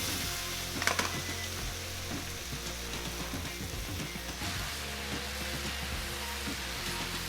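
Udon noodles stir-fry in sauce in a pan, giving a steady, close sizzle with occasional soft scraping and tossing clatters, one brief sharper clatter early on.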